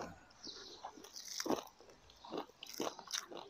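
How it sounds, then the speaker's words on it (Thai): Crunchy grilled Isan sticky rice (khao jee) being chewed close up, a series of crisp crackling crunches in irregular bursts, fairly near and loud, with no talk. "ฟังเสียงกรอบกรอบกรอบเลยครับพี่น้อง"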